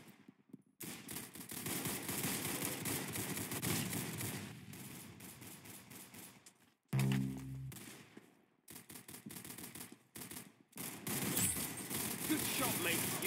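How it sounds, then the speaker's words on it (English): Rapid automatic gunfire in the Roblox Arsenal video game, loud bursts rattling almost continuously with a few brief pauses and one sharp louder shot partway through, with voices talking alongside. "Very good shooting."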